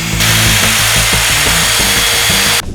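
Handheld circular saw cutting wooden posts to length, a loud steady whine with a grinding, rubbing texture running for over two seconds before cutting off abruptly.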